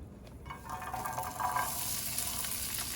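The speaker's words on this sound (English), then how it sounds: "Right off the bat, you hear that sizzling." Steady sizzling of corn frying in a hot pan over medium-high heat, close by, with a soft crackling hiss that builds slightly over a few seconds.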